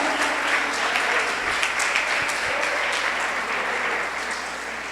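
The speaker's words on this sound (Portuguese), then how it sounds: "Aplauda o Senhor." A congregation applauding the Lord during a church sermon, sustained loud clapping that fills the room and eases slightly toward the end.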